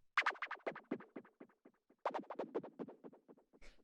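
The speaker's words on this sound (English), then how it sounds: "The next thing that we have here is this little noise tom" Synthesized noise tom made from band-passed white noise, a rapid run of short soft percussive hits that fade, pause briefly, then repeat in a second run, quiet and dry with no one talking.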